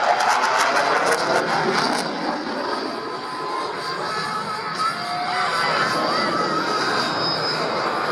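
A Dassault Rafale jet climbs steeply at the Valence air meeting, its engine roar a loud, sustained broadband rush that swells and eases slightly as it passes, with no talk over it.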